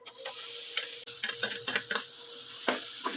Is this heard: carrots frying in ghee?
yes